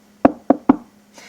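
Three quick knocks on wood, evenly spaced and close, sharp and hollow, followed by a faint rustle.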